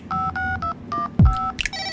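A telephone keypad beeps out a short run of dialing tones, several crisp evenly spaced presses with a brief thump in between, close and fairly loud.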